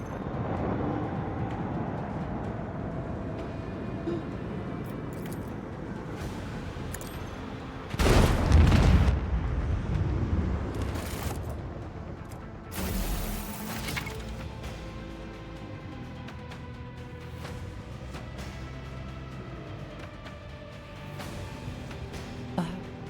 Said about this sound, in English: Yes, you can hit it with the torpedoes!